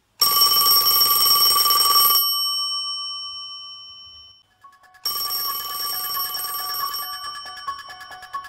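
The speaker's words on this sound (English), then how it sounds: "the phone began to ring." A telephone bell rings loudly in two bursts: a long ring for about two seconds that decays into silence, then a second ring that continues steadily to the end.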